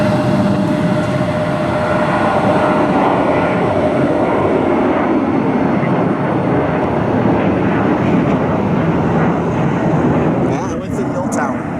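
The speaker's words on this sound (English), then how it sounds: "737-800 heading to Dallas" A Boeing 737-800 airliner passes at Cleveland airport, its jet roar loud, broad and steady for the whole stretch, easing slightly near the end.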